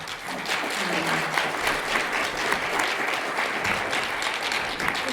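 An audience at a chamber of commerce breakfast applauds, a dense, even round of clapping that fills the room at a steady level for the whole stretch, with a voice faintly heard near the start.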